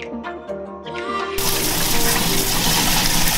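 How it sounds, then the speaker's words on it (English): Tap water switches on and runs steadily as parsley is rinsed under it in a home kitchen, a loud broadband gush that starts abruptly after a quieter moment of soft kitchen sounds. "This is parsley and I am rinsing it."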